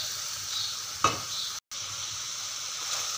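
Masala with crushed red chili frying in oil in a pan until the oil separates, a steady soft sizzle with a brief stir or clink near the middle and a short dropout, no voices.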